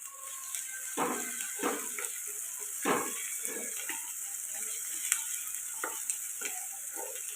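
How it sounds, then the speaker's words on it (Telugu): Onions fry with curry leaves in a pan while chicken fry is being cooked, a steady close sizzle broken by repeated scraping strokes of a spoon stirring, with no talking. "ఉల్లిపాయలు ఇలా ఫ్రై అవుతున్నాయి కదండి"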